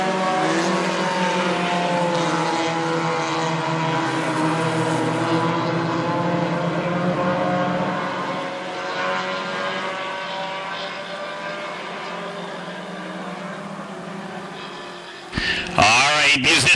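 Hornet class race cars at Ogilvie Raceway, engines droning and howling together in a sustained pack as they circle, loud and close, before a brief clattering burst at the end.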